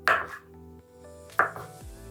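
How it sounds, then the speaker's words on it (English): A kitchen knife slices mozzarella into thin pieces for homemade pizza, giving two distinct, close cutting thuds against the board with quiet pauses between them. "I'm just going to be cutting this mozzarella into like thin slices."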